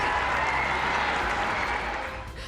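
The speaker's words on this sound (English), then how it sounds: "And the crowd erupts." A women's cricket stadium crowd in Australia roars and cheers after a batter punches a crucial ball, a dense, loud, sustained wall of cheering and applause that eases slightly toward the end.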